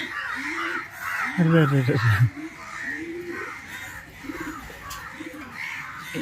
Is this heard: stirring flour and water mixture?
no